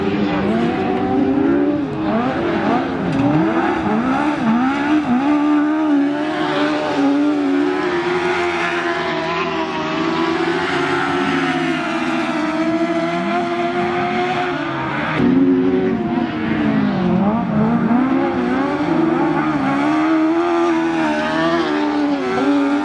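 Autograss race cars, one carrying a Honda engine in the boot, roar around a grass track at Oxton Raceway, with engines revving and rising and falling in pitch as they pass, loud and continuous throughout.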